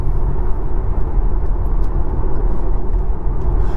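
A Tesla Model Y cruises along a country B-road, heard from inside as a steady, dense low rumble of tyre and road noise with no engine note, constant and loud, without talk.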